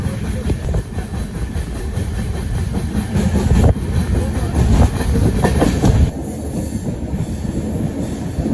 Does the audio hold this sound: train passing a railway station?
yes